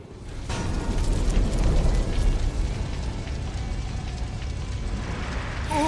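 Spreading fire in a Dynasty Warriors: Origins battle, a loud, rumbling roar of flames with crackling bursts building early and holding steady throughout, with no talk.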